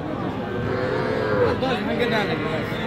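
A young bull calf at a cattle market moos in a long, drawn-out low call, fairly close, with faint human chatter in the background.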